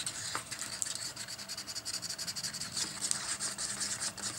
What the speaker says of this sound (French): On remélange encore un petit peu.